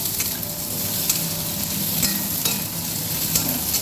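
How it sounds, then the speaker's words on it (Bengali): Potato, pointed gourd and vegetable stalks frying in a pan for a Bengali fish-head and Malabar spinach dish, with a steady close sizzle and soft stirring scrapes throughout. "এখানে আমি আলু, পটল আর ডাঁটাটা দিয়ে ভেজে নেব, ভাজা ভাজা করে নেব"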